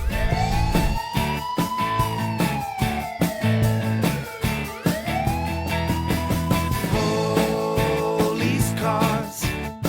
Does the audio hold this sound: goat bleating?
no